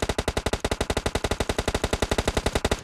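Rapid automatic gunfire in PUBG Mobile, around two dozen evenly spaced loud shots in a steady fast rhythm for nearly three seconds before stopping abruptly, with no talk over it.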